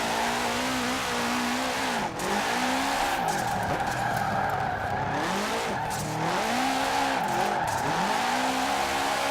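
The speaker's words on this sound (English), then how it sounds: "the new sound of the boxer motors in this game" In the video game Forza Horizon 4, a 2005 Subaru WRX STI's boxer engine whines and wavers as it revs up and down through a drift, with continuous tire squeal, loud and close.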